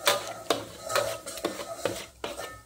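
Spices being roasted in oil in a pan for pav bhaji, heard as a series of sharp metal spoon scrapes and clinks against the pan, with faint sizzling between the strokes.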